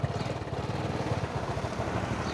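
A used motorcycle idles at a second-hand bike showroom with a steady, smooth low putter, close and moderately loud throughout.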